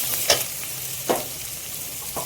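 Onions and vegetables fry together in a pan for veg fried rice, a steady loud sizzle broken by a few sharp stirring scrapes.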